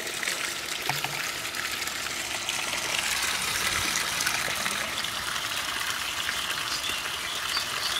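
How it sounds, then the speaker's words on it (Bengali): A small solar-powered water pump pours a steady stream into a 10-liter bucket, giving a continuous close gushing splash that stays even throughout with no talking. "এখন আমি আপনাদের দেখাবো যে কত সেকেন্ডে কত লিটার পানি উঠছে এই মোটরটায়।"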